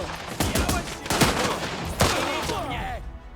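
Machine gun fire in the video game Last Train Home: a loud, rapid stream of automatic shots with sharp repeated cracks over several seconds, mixed with battle noise and faint voices.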